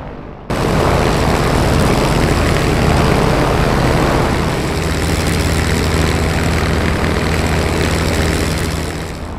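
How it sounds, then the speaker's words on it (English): A P-51D Mustang propeller engine in the DCS flight simulator idles at about 1000 RPM with a steady, droning hum after a sudden start, constant and loud with no voices. "After the engine is warmed up, idle at 1000 RPM or slightly less."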